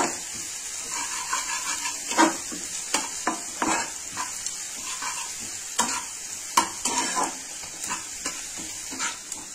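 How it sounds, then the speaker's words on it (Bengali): Onions fry in a pan with a steady close sizzle, while a spoon stirs and scrapes in sharp, irregular clinks throughout. "পেঁয়াজটা ভাজা ভাজা হয়ে গেছে"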